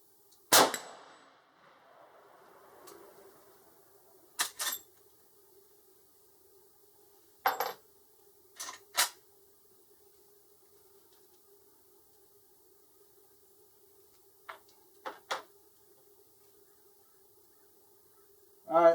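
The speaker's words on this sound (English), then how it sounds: "shooting at the 6-inch plate." Several sharp, isolated impacts of rounds from a scoped Marlin Guide Gun 45-70 rifle striking a 6-inch steel plate, each a bright metallic clang with a brief ring, spaced irregularly over a faint steady background hum with long quiet gaps.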